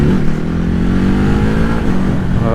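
A Ducati Hypermotard RVE 2021 motorcycle engine revs loudly and close, its pitch climbing and dropping through a quick quickshifter gear change.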